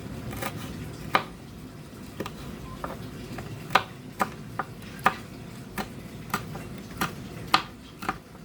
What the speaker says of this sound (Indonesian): Selanjutnya saya juga akan potong-potong cabai merah keriting